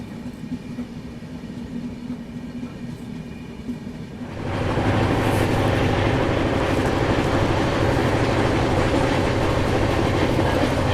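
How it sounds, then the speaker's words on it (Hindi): Sachkhand Express picking up speed after Karnal, a loud steady rush of wheels and rail noise that jumps sharply in level about four seconds in and stays a dense, continuous roar with faint clickety-clack. "करनाल से निकलने के बाद तो सचखंड एक्सप्रेस एक्शन में आई है"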